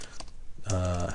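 Quick run of key clicks from someone typing on a computer keyboard while setting up a blog in Google Blogger, close and fairly soft, followed by a brief voice at the end.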